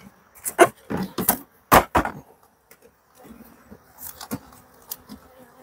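Honey bees in an opened hive during a split, soft buzzing drones beneath a series of loud knocks and frame handling noises, then quieter buzzing toward the end.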